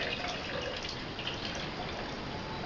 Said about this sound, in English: Now you put the fresh water in here. The warm spring water.